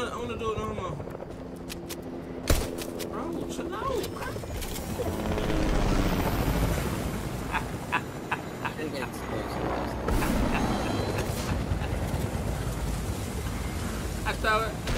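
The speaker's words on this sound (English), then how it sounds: "Bro, the helicopter is blowing so low." Helicopter flying low in a video game, a steady rotor whir and wind-like rush running throughout, with players talking over it.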